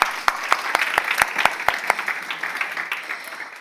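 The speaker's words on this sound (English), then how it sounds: "Let's give it a round of applause." Audience at a Northwest University recognition event gives a round of applause, a crowd wash with crisp, evenly spaced loud claps from someone nearby, tapering off toward the end.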